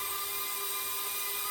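A small, inexpensive repaired mini drone hovers nearby, its propellers giving off a steady high-pitched whining buzz that holds continuously without any pause.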